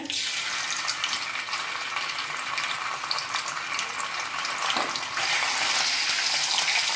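Curry leaves and ginger-garlic paste fry in hot oil for a bottle gourd sabzi, giving a steady, close broadband sizzle that carries on evenly and swells slightly louder near the end, with no talking.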